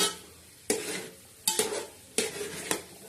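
Semolina (rava) being stirred and roasted in a pan for prasad, with a spoon scraping the pan in four distinct strokes over a soft, steady roasting hiss, close and clear with no talking.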